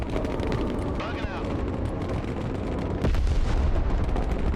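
Artillery fire in the video game Broken Arrow: heavy, rumbling booms and gunfire blend into a dense, loud battle roar, with a stronger blast near the end and a voice talking over it.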